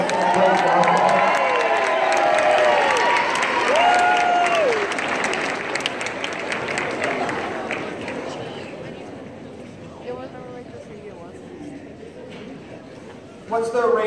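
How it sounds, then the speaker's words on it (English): An indoor audience at a Catholic high school event claps loudly and steadily for student ambassadors, with cheers and shouting mixed in at the start before the applause gradually thins and fades, a voice speaking over the crowd. "Can we get a round of applause for all of our student ambassadors?"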